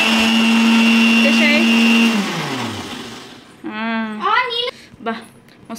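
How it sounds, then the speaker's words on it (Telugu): A blender grinds watermelon for ice cream with a loud, steady whir for about two seconds, then winds down to a stop as voices start talking nearby. "ఇంకొంచెం గ్రైండ్ చేయాలి కొంచెం గ్రైండ్ చేయి"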